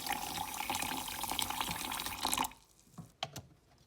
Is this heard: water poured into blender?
yes